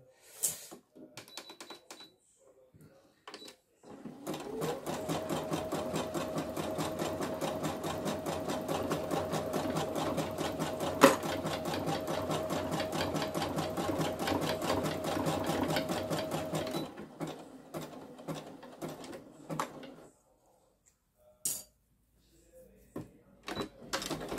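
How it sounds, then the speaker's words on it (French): A sewing machine runs a zigzag stitch on fabric, with a few short bursts and then a long, steady rattling run close by, followed by a pause and more brief stops and starts. "Donc là, je pars au point zigzag."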